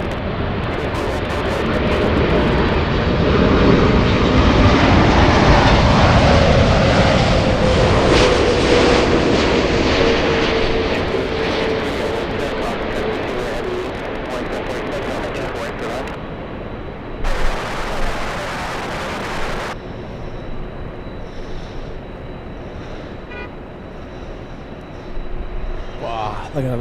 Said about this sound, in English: A textbook crosswind arrival.